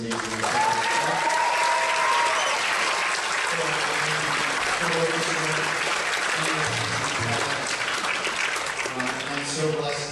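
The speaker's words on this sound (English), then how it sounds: "How about another round of applause for this amazing" Sustained applause from a concert audience for a high school jazz band at a spring jazz band concert, dense and steady throughout, with some indistinct voices mixed in.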